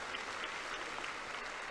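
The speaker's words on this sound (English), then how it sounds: "clap your hands if you want to." A church congregation claps together in a steady, dense patter of hands that holds evenly from start to finish, with no voices breaking through.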